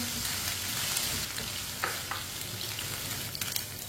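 Chicken pieces frying in a pan with steady, close sizzling, broken by occasional scrapes and knocks of a spoon stirring them; no voices.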